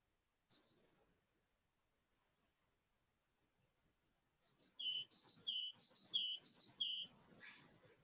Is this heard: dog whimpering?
no